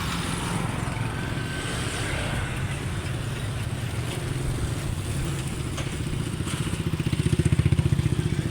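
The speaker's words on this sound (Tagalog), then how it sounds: "Dami pong motor dito oh." Steady roar of about 3,000 motorcycle engines close by, a continuous rumbling drone that swells louder toward the end.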